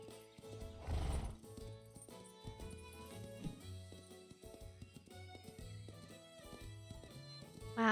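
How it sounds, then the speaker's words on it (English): A horse canters in The Ranch of Rivershine video game: rhythmic hoofbeats over soft game music, with a loud close whinny at the start and another snort or neigh at the very end. "Let's do a canter for the fun of it."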